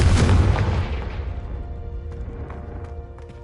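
A Confringo spell explosion in Hogwarts Legacy: a loud, close boom at the start that rumbles heavily, then fades into a decaying tail with faint crackles and ringing debris, with no voices over it.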